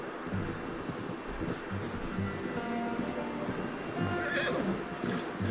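A horse in the video game Red Dead Redemption 2 whinnies loudly and close, with hoof clops and ambient outdoor game sound beneath, and no speech over it.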